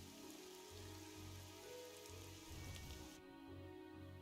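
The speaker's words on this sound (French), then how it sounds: "Ah, il pleut, mais juste là-bas." Rain falls steadily in the video game Evoland 2, a faint, even hiss under a repeating low game tone, thinning out near the end.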